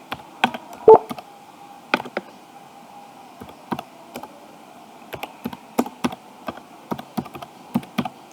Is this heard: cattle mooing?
no